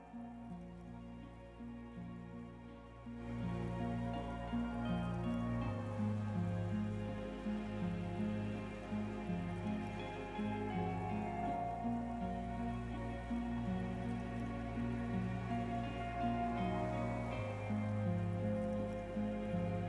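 Steady, continuous rainfall with a soft patter throughout, layered over a low, sustained musical drone in the video game Disco Elysium; it swells slightly after the first few seconds and stays loud.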